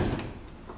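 The rear door of a used Jeep Wrangler hard top opens with a short, quiet muffled clunk and faint rattle, close by, followed by low ambient noise.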